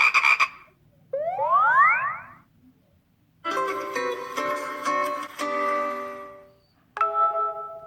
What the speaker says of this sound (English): That's the Hangout message too.